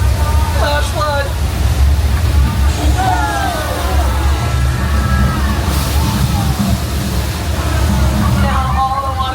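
A flash flood effect on a Universal Studios Hollywood tour set sends a heavy rush of water sloshing and roaring continuously close by, while a crowd chatters and calls out over it.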